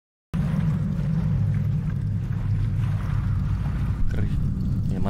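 A low, steady engine-like rumble from a motorcycle in a horror video game runs continuously after a short silent start, loud and droning throughout with no voices.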